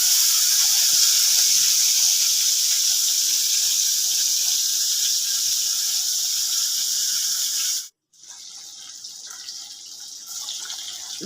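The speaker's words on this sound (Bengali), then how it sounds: "পটল ভাজা হচ্ছে এক সাইডে" Pointed gourd frying in oil in a wok, a loud, even hiss of hot oil that cuts out briefly near the end, then resumes slightly quieter.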